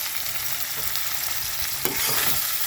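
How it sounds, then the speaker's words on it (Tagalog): Mung beans and smoked fish sautéing in a hot pan, a steady, loud, close sizzle with light stirring scrapes, continuous throughout with no talking. "Tuloy na natin, gisa-gisa natin"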